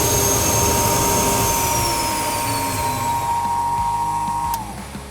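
A jet turbine engine winds down after shutdown, its loud roar and high whine steadily falling in pitch and fading until a final drop near the end.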